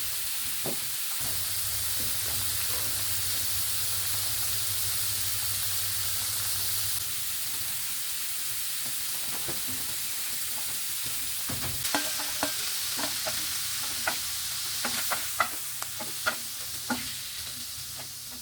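Onions frying in a pan with oil, a steady sizzle running throughout with occasional stirring clicks and scrapes growing more frequent toward the end.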